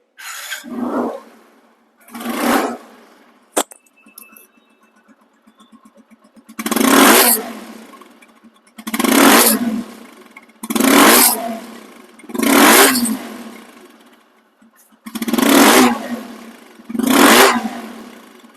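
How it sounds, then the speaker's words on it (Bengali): A second-hand TVS Apache RTR 160 motorcycle in showroom condition revs hard in repeated bursts, about eight loud, close throttle blips separated by short pauses at idle. "বাইকটি চলা সাউন্ড কোয়ালিটি শুনুন"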